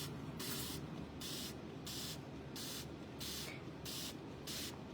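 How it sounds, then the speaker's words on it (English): A misting spray bottle used for chalk crafting gives repeated short hissing bursts, about seven evenly spaced sprays, close and clear over a low steady background hum. "and you're gonna spray it again."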